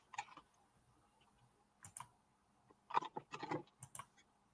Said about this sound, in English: I'm shuffling right now and connecting to Cat Mama Meow.